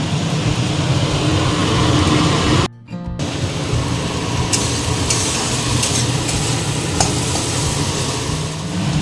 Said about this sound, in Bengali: এবার কুমড়োটা ভেজে নেব।